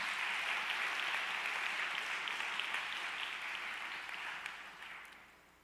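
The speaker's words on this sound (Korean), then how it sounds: "우리 다 정말로 우리 축복의 박수를 한번 드렸으면 좋겠어요" Sustained applause from a church congregation at a Korean university-group worship service, steady and full for several seconds before tapering off toward the end, with no voices over it.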